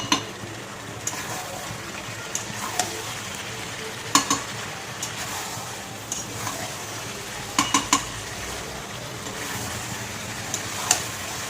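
Chicken and fried potatoes sauté in oil with a steady low sizzle, while a utensil scrapes and clinks against the pot at irregular intervals during stirring.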